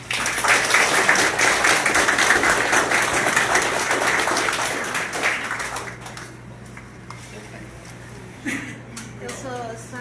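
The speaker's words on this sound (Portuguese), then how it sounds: "Palmas para nossos companheiros da Alemanha." A crowd applauds visiting companions from Germany at a course presentation on fascism, with loud, dense clapping for about six seconds before it fades to scattered claps and a voice speaking.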